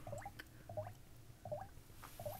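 Homemade wine or beer fermenting in a fermenter, small glugging bubbles popping at a regular pace of roughly one every half second, quiet and close over a low background hum.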